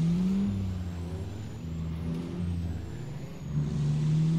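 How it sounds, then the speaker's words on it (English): Truck engine in the American Truck Simulator video game, a steady low engine hum with shifting tones, rising slightly near the end; moderate level and alone. "I can kind of hear your truck."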